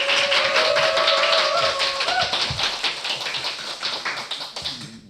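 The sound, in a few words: small audience clapping at a public broadcast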